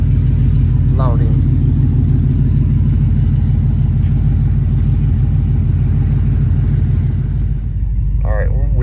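A car fitted with a Boss racing cam idling close up, a loud, deep, steady rumble with a slightly uneven pulse, and someone speaks briefly over it near the start and end.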